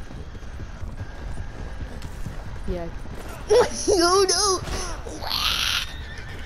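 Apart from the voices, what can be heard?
horse galloping and neighing in a video game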